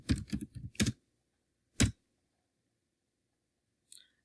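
Keys on a computer keyboard tapped in a quick burst of several strokes, then a single louder keystroke, and one faint click near the end, close and dry with no talking.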